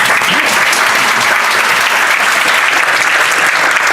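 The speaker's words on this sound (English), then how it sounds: "round of applause for Jon with Evil Go" Loud, dense applause from a conference audience at GoCon Canada welcoming a speaker to the stage, an unbroken roar of many hands clapping close by, with no speech on top.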